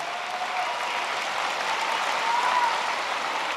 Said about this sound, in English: Did you feel better after the big cheer?